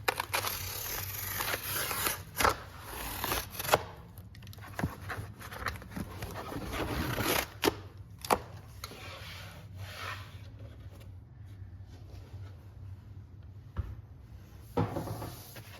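Material is cut on a shop cutting board, producing close rubbing and scraping strokes with scattered sharp knocks and thumps, loudest early on and quieter toward the end.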